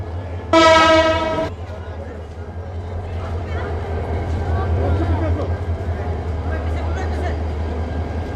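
A train at a railway station platform sounds a loud horn blast lasting about a second near the start, followed by steady low rumbling and crowd bustle with people talking throughout.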